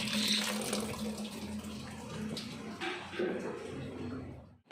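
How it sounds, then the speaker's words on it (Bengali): Running tap water splashing over hands at a home sink, a steady close wash with brief changes in the flow as the hands move, and a faint voice in the background. "চলো হাতটা ধুয়ে নিয়ে"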